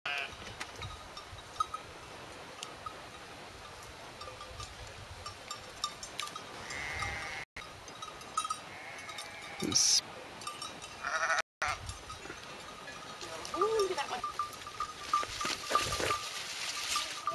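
Sheep bleat intermittently on a Norwegian farm beside a large vegetable garden, fairly faint and distant over steady outdoor ambience.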